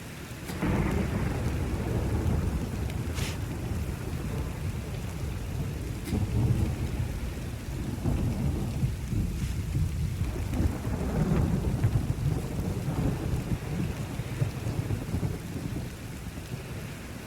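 A steady thunderstorm from The Witcher 3, with dense rain pouring throughout and a few distant thunder rumbles rising under the downpour, no voices.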